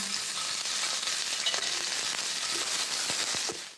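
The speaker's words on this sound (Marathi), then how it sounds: "आता याच कढईत मी हा कांदा भाजून घेते. कांदा भाजताना सुद्धा थोडंसं तेल टाकते." Onion sizzles steadily in hot oil in a kadhai, a continuous loud crackling hiss with occasional clinks of stirring, then it stops abruptly.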